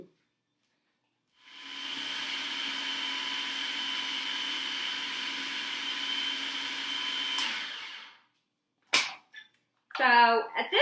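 A food processor blends frozen plant-based nice cream in one loud, steady whirring run of about six seconds, then cuts off, followed by a few brief knocks and a short burst of voice.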